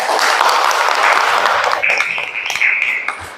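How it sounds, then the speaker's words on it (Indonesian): A class of students applauds in a classroom, a loud, dense patter of clapping that thins toward the end with a few brighter squeals and scattered sounds over it. "Maka dia tepuk tangan untuk semuanya."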